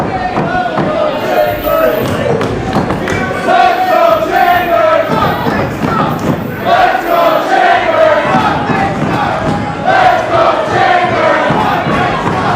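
A live independent wrestling crowd roars and chants in support of Kris Chambers, a loud, continuous mass of voices with rhythmic chant-like swells and a commentator talking over it.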